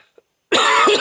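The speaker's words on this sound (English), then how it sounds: "Damn my coughing." A single harsh cough bursts out after a tiny faint sound and near-silence, loud and close, rasping on for about half a second.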